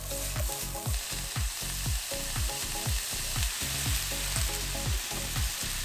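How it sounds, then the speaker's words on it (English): Onions sauté in a hot pan with shrimp and vegetables, a steady sizzle with regular stirring scrapes roughly twice a second, close and loud with no talking. "you're gonna add your onions, and you're gonna give this a really good saute"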